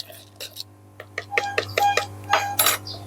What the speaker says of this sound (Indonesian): Kemudian kita aduk-aduk sampai merata